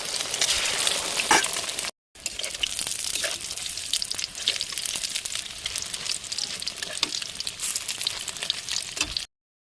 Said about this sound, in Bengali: এখন আমি এক এক করে গোল্ডেন ব্রাউন করে ভেজে নেব।